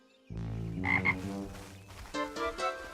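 A cartoon frog belonging to a boy named Pepito croaks in a children's animated show, a series of close, loud, tonal ribbits with a musical lilt.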